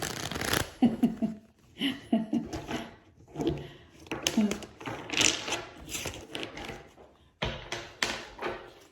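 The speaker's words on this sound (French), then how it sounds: "Je vais tirer une dernière carte de ce jeu." A deck of tarot cards is shuffled close up in quick riffling bursts with soft slaps and pauses, while a voice speaks intermittently alongside.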